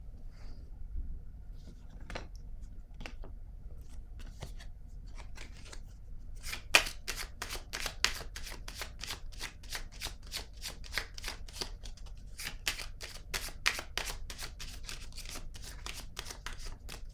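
Cards are shuffled and laid down during a card reading, with a few soft handling sounds giving way to a long run of rapid, regular riffling flicks close by, with no talk.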